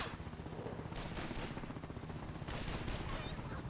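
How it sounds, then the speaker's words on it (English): Pistol gunfire in a video game free-for-all match, sharp shots repeating rapidly and densely, nearly continuous bursts throughout with a busy battle din behind them. "Boris using his pistol against Black Lotus."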